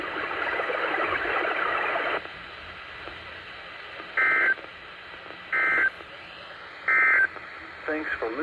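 A NOAA Weather Radio broadcast voice from station WWF34 in Plainwell, on an Eton receiver during the required weekly test, speaks before three short, loud electronic alert tone bursts separated by quiet gaps, with more talk resuming after.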